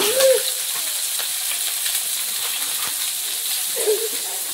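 Spice paste frying in a pan, a steady, fairly loud sizzle running unbroken throughout, with faint clinks of stirring near the start and end.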